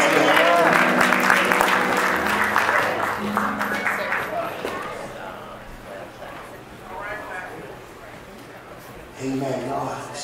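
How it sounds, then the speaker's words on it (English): Church congregation clapping hands in praise: loud, dense applause with cheering and voices at the start, fading into scattered claps and murmured talk, with a short swell of sound near the end. "let's give God another hand clap for his word on today."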